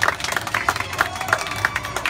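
Scattered hand clapping from a small crowd greets a child at a neighborhood Children's Day celebration. The claps are fairly close and come in an uneven, lively patter over a low murmur of people.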